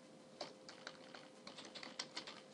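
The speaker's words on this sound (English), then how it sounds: "So we type TCP dump" Keys clatter on a computer keyboard as a tcpdump command is entered, a quick, uneven run of soft clicks close by and fairly quiet, with no speech.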